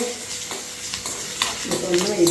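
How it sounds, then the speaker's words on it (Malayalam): Small onions frying in a pan for a Malayalam-style fish curry, a soft sizzle with a few stirring scrapes, rising toward the end with louder clatter and faint voice underneath. "ഇതൊന്ന് അപ്പം നമ്മുടെ ഉള്ളി മൂത്തുകൊണ്ട് വരുന്നുണ്ട് കേട്ടോ കരിയാൻ പാടില്ല"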